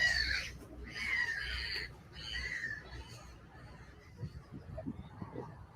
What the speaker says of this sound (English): The birds sound happy.